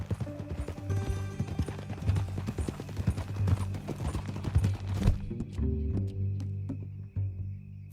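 Red Dead Redemption 2 horse hooves clip-clop in a steady trotting rhythm, fairly close, with a clattering patter that slows and thins out toward the end.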